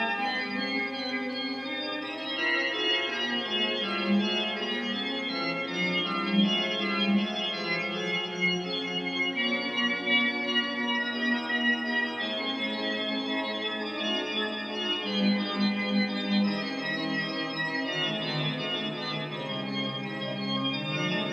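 Fast piano piece from a Touch Pianist tutorial, dense with rapid running notes over a continuous sustained wash, played steadily at moderate volume for about twenty seconds with no talking.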